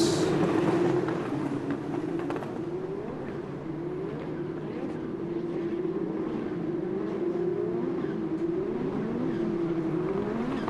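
Open-wheel Indy NXT race cars on the Music City Grand Prix street circuit, a steady engine drone with repeated rising pitch sweeps as cars accelerate past, continuous and moderately loud.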